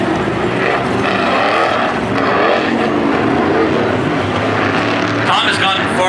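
A number 2 race car climbs a hill during a heat race, its loud engine droning steadily as a commentator talks over it and the sound fades slightly toward the end.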